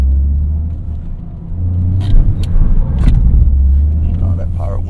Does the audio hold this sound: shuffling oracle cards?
no